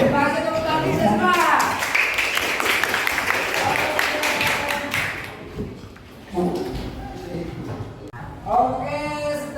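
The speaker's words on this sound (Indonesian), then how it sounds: "Terima kasih tepuk tangan semua." A school class applauds in a classroom, a burst of many hands clapping that fades after a few seconds, with voices talking and calling out over and after it.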